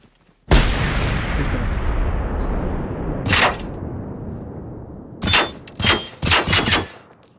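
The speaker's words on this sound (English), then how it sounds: "I'm gonna take him out with pistols." Gunfire in the video game Generation Zero, a loud opening blast followed by a long decaying roar, then a few separate sharp pistol shots in quick succession toward the end.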